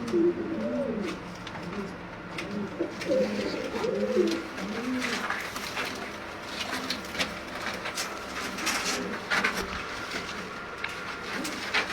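Pigeons from a group of ten coo in soft rolling phrases, clearest early on. The cooing fades into a murmuring background with scattered clicks and rustles.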